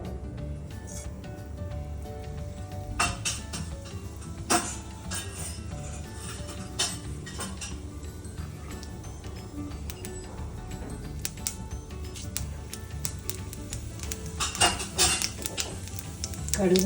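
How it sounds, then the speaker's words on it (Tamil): Mustard and cumin seeds crackle and pop in hot oil, scattered sharp spits over a steady sizzle, with a few louder bursts near the end. "கடுகு ஜீரகம் நல்லா பொரிஞ்சிருச்சு."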